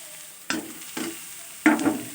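Radish greens with a pinch of sugar stirred in a pan: three separate close scraping, rustling strokes with quiet gaps between, no voices.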